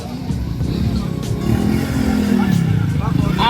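Motorcycles idling and revving at a Philippine car meet of modified four-door cars, a steady low engine rumble running throughout, close and loud, with people talking over it.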